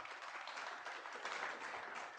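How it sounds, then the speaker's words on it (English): An audience at a show-and-tell meetup applauds a speaker: a dense, even wash of many hands clapping, quiet and distant, lasting a couple of seconds. "Big round of applause for Tom Butt."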